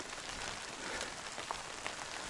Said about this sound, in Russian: Вообще просто ливень.